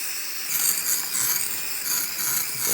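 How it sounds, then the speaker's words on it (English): A camp stove being screwed by hand onto the top of a gas canister, giving a steady close metallic scraping and ratcheting rasp that lasts throughout with a faint hiss beneath. "So it screws right onto the top of these tanks"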